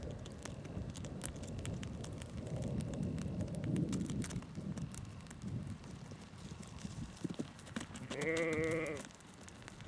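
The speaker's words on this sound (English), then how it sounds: "Not sure what's attracting these sheep to this particular point" Sheep bleating on open downland on a countryside walk between Falmer and Glynde, several calls close by over a steady wind-like rushing, with a clear loud bleat near the end.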